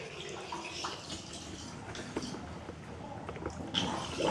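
An Interdab GV180 submersible water pump throws a strong spray of water from a pond, producing a steady rushing, splashing wash at moderate level that swells slightly toward the end, with no voices.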